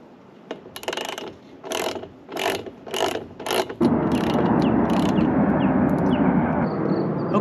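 A torque wrench tightens a crossbar bolt on a Toyota RAV4 Prime roof rack, with short bursts of ratcheting clicks that give way to a steady, louder grinding rattle, close by.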